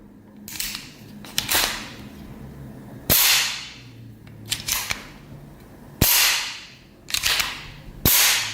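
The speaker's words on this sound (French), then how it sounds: "On remet le chargeur." A first-generation Beretta 81 pistol in 7.65 Browning has its magazine reinserted and its action worked. Sharp metallic snaps and clacks land close and loud in pairs, each ringing off briefly, several times in a row.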